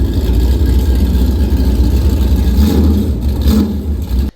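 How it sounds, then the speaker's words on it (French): A naturally aspirated V8 race car engine with side exhausts and a Remus exhaust system rumbles steadily and loudly up close, a deep throbbing burble that holds for about four seconds before cutting off. "c'est V8 atmosphérique qui fait glou glou glou glou glou glou"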